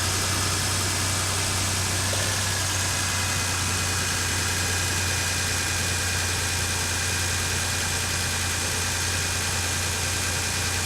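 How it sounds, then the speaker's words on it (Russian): A warmed-up Toyota 5VZ-FE V6 in a Land Cruiser Prado idles with a fault knock, a steady, close, continuous engine drone with a low hum and no pauses or voices. "А вот когда разогреется, появляется вот такой стучок."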